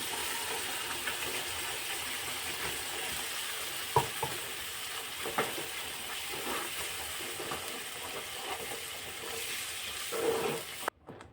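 Ground puree for paneer makhni sizzling as it hits a hot pan, a continuous frying hiss with occasional stirring clinks and pops, then cutting off abruptly at the end.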